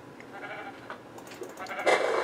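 Sheep in the Minecraft video game, giving several short bleats in quick succession that grow louder toward the end, heard alone.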